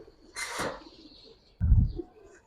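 A Giribaz silver pankhi pigeon gives a short, low, throaty coo close by, following a brief rustle, in an otherwise quiet moment.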